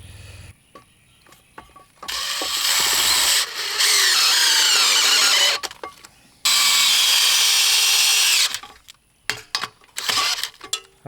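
Power drill driving big 1/4 inch Strong-Tie screws into wood, two long loud whirring runs with the motor straining as each screw seats, separated by brief pauses and ratcheting clicks.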